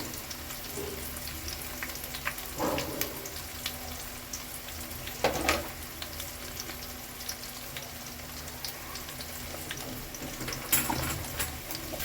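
Onions and green chillies fry in a pan for egg kulambu with a steady soft sizzle, broken by a few louder scraping stirs, close by and alone.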